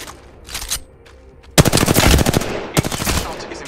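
Rapid automatic gunfire from weapons in the video game Apex Legends, a quieter burst early on, then dense loud bursts of shots with brief pauses between volleys.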